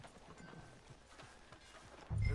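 Horse hooves clip-clop at a steady walking rhythm in Red Dead Redemption II, soft and fairly close against a quiet town background, before a louder low thump near the end.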